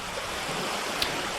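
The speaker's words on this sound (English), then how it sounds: "This is sounds recorded near a Baltic coastline." Constant broadband wash of water, waves or surf near a Baltic shore, steady and moderately loud with a brief faint click.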